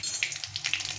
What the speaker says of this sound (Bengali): তেলটা গরম হয়ে এসে এখন আমি এখানে একটা শুকনো লঙ্কা ফাটিয়ে দিয়েছি, আর কিছুটা জিরে, সাদা জিরে,